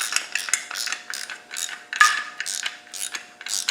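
A ratchet tightens a nut on the slave cylinder bracket of an R380 gearbox, giving a rapid, close series of metallic clicking pawl strokes in short repeated bursts, with no talking.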